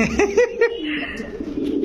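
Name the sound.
pigeons cooing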